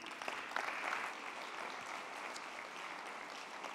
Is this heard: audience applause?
yes